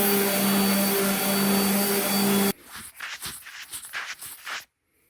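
Power sanding of a wooden hog splitter handle gives a loud, steady, whining drone for about two and a half seconds, then cuts off abruptly, leaving softer scraping and shuffling handling noises before silence.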